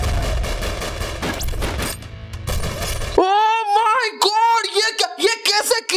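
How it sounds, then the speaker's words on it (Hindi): Gunfire from a Bhojpuri film fight scene crackles in dense, loud bursts for about three seconds before cutting off abruptly, after which someone talks. "इतनी सारी गोलियां चल रही है"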